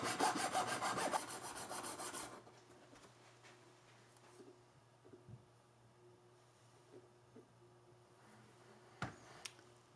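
Rasp file working a violin nut along its fingerboard side, a loud, broadband rough scraping for the first two seconds, then stopping into quiet room tone with a few faint knocks and taps.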